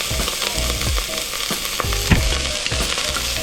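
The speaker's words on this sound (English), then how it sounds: "Gonna add the minced onions. Minced garlic." Minced onions and garlic fry loudly in a hot pan for pumpkin rice, a constant close sizzle punctuated by regular scraping strokes of a spoon, with no one speaking.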